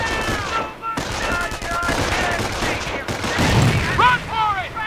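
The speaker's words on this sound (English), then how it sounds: "Let's throw a grenade to destroy the machine gun team." Rapid gunfire and explosions from Company of Heroes as a grenade takes out a machine gun team, with a dense, continuous battle din of shots and bursts, loud and close throughout.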